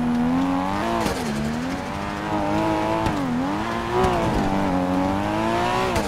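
Stock turbocharged supercar engine racing on snow in GTA 5, a steady droning roar that rises and dips as it revs, loud and continuous, with no talk.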